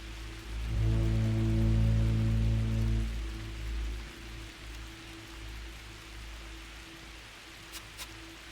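Rain falling in the tribal survival game The Tribe Must Survive, a steady hiss under a low droning music bed, with a couple of faint clicks near the end.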